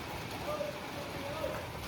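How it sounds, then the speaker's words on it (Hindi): Steady rain falls in early July, making a constant close hiss with no talk over it. "आ गई बारिश।"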